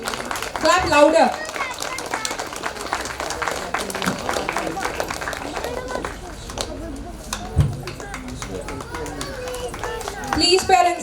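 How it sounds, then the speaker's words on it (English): Parents clap at a school annual day celebration, a steady dense patter of many hands running throughout, with a voice speaking over it near the start and end. "Please, parents, keep clapping."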